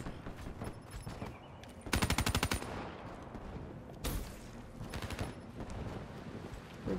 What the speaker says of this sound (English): Like a minigun? Slow motion minigun?